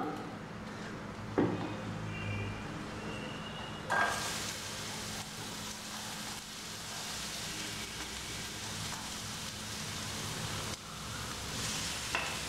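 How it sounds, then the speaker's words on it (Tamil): Faint, steady sizzle of capsicum sautéing in a little oil in a pan, a soft hiss with a couple of brief stirring knocks near the start. "இதில் கொஞ்சமாக எண்ணெய் ஊற்றி முதல்ல இந்த குடமிளகாயை வதக்கி விட்டுக்கலாம்"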